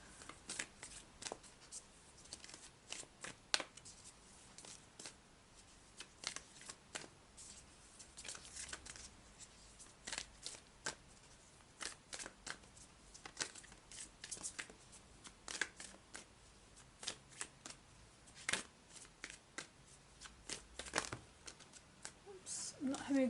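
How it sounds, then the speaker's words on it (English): Lightworker Oracle cards are shuffled by hand in a close, repeated run of crisp riffling flicks and soft slaps that continues unevenly throughout. "I'm not having a good time shuffling here."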